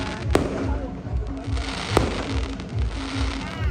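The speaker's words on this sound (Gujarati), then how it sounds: "અત્યારે બધા ફટાકડા ફોડે છે" Firecrackers burst in sharp, loud cracks, two standing out clearly, with more popping in the distance over a steady background din during Uttarayan celebrations.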